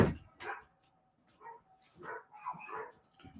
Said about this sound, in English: here comes the dogs again